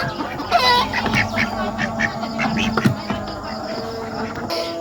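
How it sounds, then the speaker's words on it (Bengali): Chickens are being herded into their coop at a rural home. They cluck and squawk close by in a steady, busy stream of overlapping calls, with light scratching and no clear talk. "এখন মুরগি কয়টা উঠবে"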